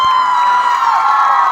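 A crowd at the Kalyan Mahotsav cheering and clapping for a singer, a loud, dense wash of shouts and whoops with a steady roar, close and continuous.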